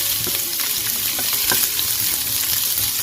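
Onions sizzling in a pan with ginger and garlic for Kerala-style fish pollichathu, a steady, dense crackling fry that fills the whole stretch, loud and close with no voices.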